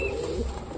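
Pigeons in a loft give a low, continuous cooing, a soft steady murmur close by with no talk over it.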